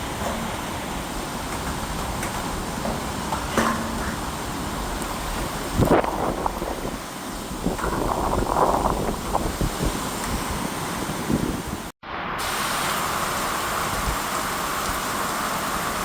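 Strong, roaring wind from Tropical Cyclone Fina in Darwin, Australia buffets the microphone continuously with a hiss of rain, surging in gusts and briefly cutting out near the end.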